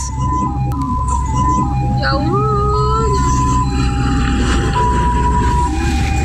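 A convoy of ambulances evacuating victims after an explosion of expired ammunition in Garut, West Java, passes with wailing, overlapping sirens rising and falling over a low traffic rumble, with voices and crowd noise beneath.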